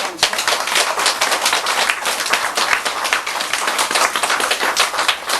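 A crowd of listeners at a Buddhist sermon claps and applauds, a dense, continuous wash of many hands heard up close and unbroken for several seconds, with no talking over it.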